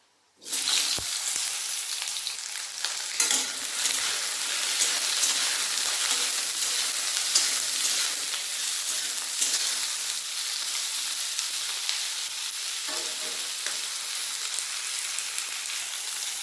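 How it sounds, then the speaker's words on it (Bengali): Pointed gourd fries in hot mustard oil in a wok with a sudden loud burst of sizzle as the pieces go in, then a steady, dense, close hiss of frying that holds for the rest. "কড়ার মধ্যে তেল গরম হয়ে গেছে আমি পটলগুলো আগে ভেজে নেবো"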